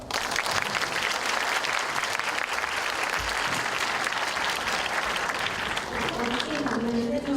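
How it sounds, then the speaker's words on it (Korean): Audience at a World Brain Week science lecture in Korea clapping after the talk, dense, loud, sustained applause filling the whole stretch without a break. "멋진 강연을 해주신 박지영 교수님께 다시 한번 큰 박수 부탁드립니다."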